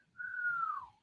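A single clear human whistle, one smooth sustained tone lasting under a second that glides slightly downward, heard alone against near silence.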